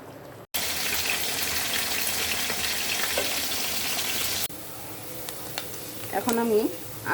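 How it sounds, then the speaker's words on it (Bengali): Onions fry in a pan for a Bengali potato, eggplant and tomato chorchori, giving a loud, steady close sizzle that drops in level midway, with stirring clinks and a brief voice near the end. "পেঁয়াজগুলো ভেজে নিচ্ছি।"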